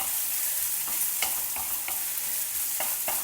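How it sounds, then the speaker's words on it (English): Finely chopped ginger frying in hot oil, a steady bright sizzle broken by several sharp clicks of a spoon stirring against the pan, close and loud with no talking. "fry the ginger till it's well browned"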